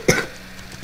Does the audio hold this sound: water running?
no